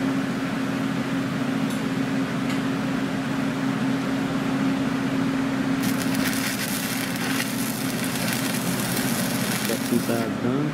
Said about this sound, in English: We are welding up the rebar for the support.